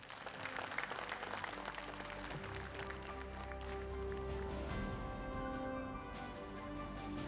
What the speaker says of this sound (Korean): 서정욱 울산 부시장님에게 다시 한번 큰 박수 부탁드리겠습니다.